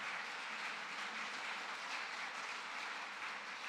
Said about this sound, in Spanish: Denle un fuerte aplauso a la palabra de Dios en este día.